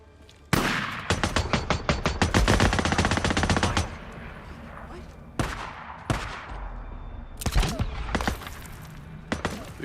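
An MG45 machine gun fires in the video game Days Gone, first in one long rattling burst, then in several shorter, sharp bursts separated by brief pauses, loud and close.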